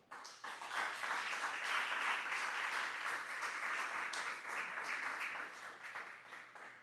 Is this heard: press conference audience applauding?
yes